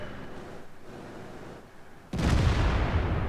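Tank gun fires in World of Tanks: after a quieter rumbling stretch, one loud sudden blast hits and trails into a sustained roaring echo, close and heavy, no speech.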